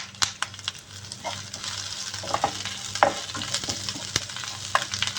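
Curry leaves fry and crackle in oil in a pan over medium flame while being stirred, with scattered sharp pops and scraping over a steady sizzle.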